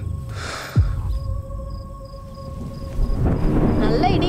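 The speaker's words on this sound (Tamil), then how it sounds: "நல்ல இடி மின்னலுமா இருக்கு" Thunder during a thunderstorm over a road where a car has broken down, with a sharp crack followed by low rumbling and rainy background noise, plus some tonal film sound effects.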